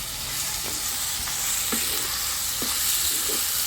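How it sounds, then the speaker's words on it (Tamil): Garlic and tomatoes fry in oil for a village-style cumin curry, giving a loud, continuous sizzle with a few soft stirring scrapes spaced through it. No one speaks. "நல்லா எண்ணெயிலே வதக்கணும் பூண்டு சேர்த்து"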